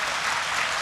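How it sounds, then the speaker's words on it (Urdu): A brief, dense burst of audience applause at a Delhi poetry recital during the Jashn-e-Bahar 2004 mushaira, steady and full throughout the short moment. "اس پہ تالیاں آنا چاہیے اور زیادہ۔"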